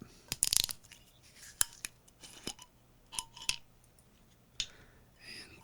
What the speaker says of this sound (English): Yep, let me open this up.